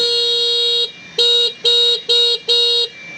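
Horn of a Shadow Heron3 electric bike sounds up close: one long steady electronic tone, then four short evenly spaced beeps, loud and alone.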